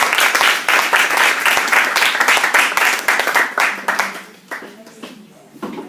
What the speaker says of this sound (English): I'd like to have a round of applause for Professor David Byrne